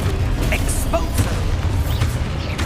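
A spell explosion from the Hogwarts Legacy video game: a dull, rumbling boom set inside a dense, continuous wash of combat noise and low rumble, with a voice talking over it.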